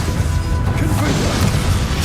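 A Confringo blasting spell strikes a boss in Hogwarts Legacy, giving a dense, loud, continuous crashing rumble with heavy low-end booms that runs steadily with no clean break.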